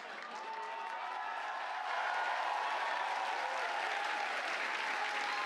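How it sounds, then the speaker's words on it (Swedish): Applause from a crowd watching a SpaceX Starship test flight, a broad steady clapping wash that swells slightly after a couple of seconds and holds at a moderate, slightly distant level with no speech over it. "Applåd för det."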